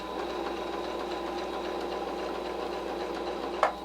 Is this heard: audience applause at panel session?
no